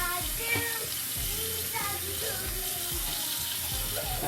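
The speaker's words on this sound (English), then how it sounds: "now we soak the ribs in cold tap water" Cold tap water runs steadily into a sink over pork ribs being soaked for Chinese sweet and sour ribs, a close, continuous splashing rush with no talk.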